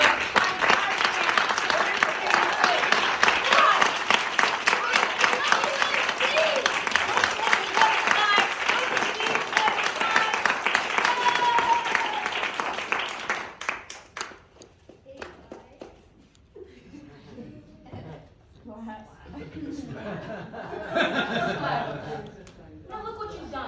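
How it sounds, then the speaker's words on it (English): A theatre audience claps hard at a comedy stage show, dense loud applause for about fourteen seconds that then cuts off into scattered talk and laughter, with a brief swell of clapping returning near the end. "I need you guys to clap as hard as you can."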